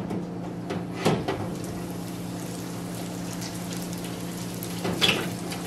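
Frozen homemade spring rolls frying in a deep fryer at about 360 degrees Fahrenheit make a steady, close hiss and bubble, with a couple of brief knocks near the start and end.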